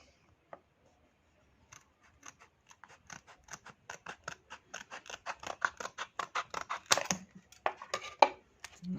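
Close snipping of scissors cutting through the plastic packaging of a microSD memory card, a few slow cuts that speed into a quick run of rhythmic crisp snips.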